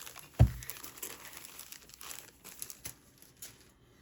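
A plastic bag crinkles while an 8BitDo Retro Mechanical Keyboard C64 Edition is unboxed: one sharp crackle, then softer scattered rustling, close and quiet.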